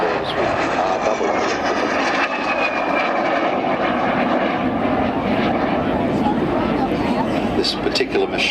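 Propeller-driven two-seat trainer aircraft at an RAAF centenary airshow at Point Cook, a loud steady engine drone filling the whole stretch, with a commentator talking over it.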